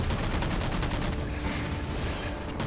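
Missile barrage in the Halo 4 video game campaign, a dense continuous rumble of blasts and rapid gunfire, loud and unbroken.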